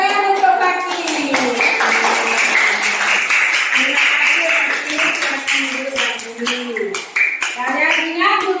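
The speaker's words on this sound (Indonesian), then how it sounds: "Tepuk tangan untuk Fakir" A class of young pupils claps for a classmate who answered correctly, a brisk, close patter of small hands under a teacher's and children's voices.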